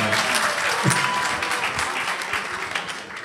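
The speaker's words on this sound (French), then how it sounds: "Applaudissez pour moi" Audience applause at a creative performance event, a dense burst of clapping heard close and fairly loud, holding steady for a few seconds before tapering slightly.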